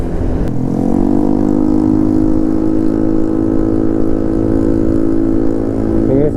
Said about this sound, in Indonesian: Ini sampai knalpot begini nih